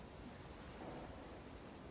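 Simulated ocean waves in a realistic Roblox boat game form a steady, soft wash of noise with no distinct breaks, heard alone and fairly quiet.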